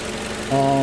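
2011 Toyota Camry engine idles steadily with a faint repetitive lifter tick, stepping up to a louder, more tonal hum halfway through the short stretch.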